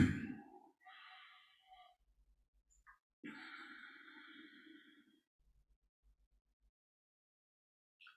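Slow breaths during a guided breathing exercise, two soft airy exhales near the mic separated by quiet pauses, with faint low thumps in between.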